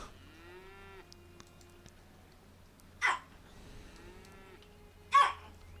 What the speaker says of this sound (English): She pet the cow.